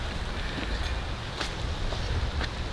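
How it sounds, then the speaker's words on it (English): Steady wind and rain on an outdoor urban farm, a dense continuous rush with low gusty rumble against the microphone that holds at an even level throughout. "it's raining. It's cold, it's windy."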